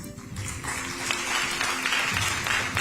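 Steady applause fills an awards-night ceremony hall, a dense wash of many hands clapping that swells slightly and holds loud through the clip, with a faint voice underneath.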